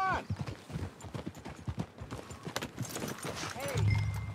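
Horse hooves clip-clopping in the western game Red Dead Redemption 2, a quick, even run of hoof beats close by, with voices talking over them near the end.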